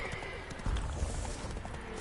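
Roach, a horse in the Witcher 3 video game, gallops with muffled hoofbeats over a dense, noisy game soundscape, brief and moderately loud, with a heavier thud cluster partway through.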